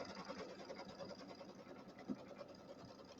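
An embroidery sewing machine stitches a batting tack-down line for a pillow, a steady, fairly quiet continuous whir with a fast rapid pulse throughout.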